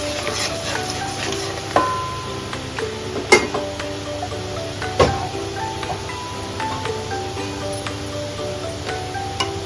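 Kashmiri chilli powder and coriander powder are stirred in a pan for paneer butter masala, making soft scraping and rustling with a few sharp clinks of the spoon against the pan under a low background hum.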